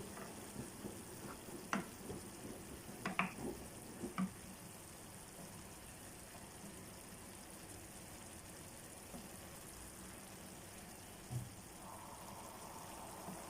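Pancit canton noodles stirred while frying in a pan give a faint, steady sizzle, with a few brief scrapes and clinks near the start and another knock later on.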